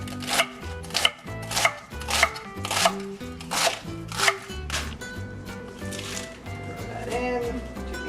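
Knife rough-chopping baby romaine lettuce heads on a cutting board, a run of crisp rhythmic chops that slows and fades, with a voice talking over the cutting.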